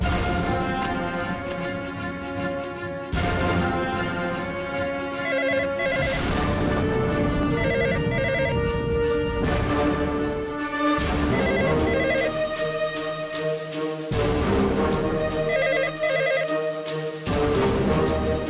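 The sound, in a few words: landline telephone ringing unanswered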